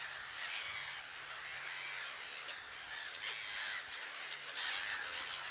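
Dense, continuous chorus of a large colony of birds calling and squawking at once among rocks and dense vegetation in Africa, a loud unbroken din with harsh caws rising above it.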